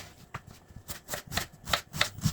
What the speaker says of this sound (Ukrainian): швиденько нарізаємо цибулю. Міленьким-міленьким кубиком.